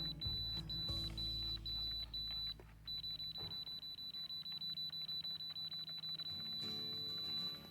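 A laser detector used in laying out mudsill on stepped walls sounds a steady high electronic tone while its dial is turned, briefly broken near the start, over low handling rumble.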